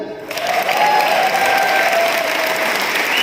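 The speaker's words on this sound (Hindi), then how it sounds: "आप इतनी धीरे ताली बजा रहे हो" Five hundred people in a Goa convention hall break into loud, sustained clapping that swells in quickly after a brief quieter start and stays dense and even.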